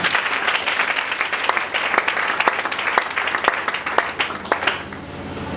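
A church congregation applauds through a service, a dense spread of clapping with sharper individual claps standing out, fading slightly toward the end.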